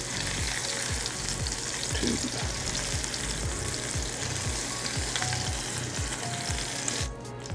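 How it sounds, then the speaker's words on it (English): Meatballs brown in a black cast iron skillet, giving a dense, loud, continuous sizzle with a faint regular pulsing underneath, heard alone without any talk. "So we've been browning our meatballs in our black cast iron skillet."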